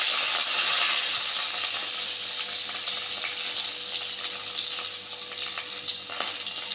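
Crushed garlic and green chillies hit hot oil already seasoned with mustard seeds and cumin, sizzling loudly and steadily throughout, a dense, unbroken frying hiss with no voices.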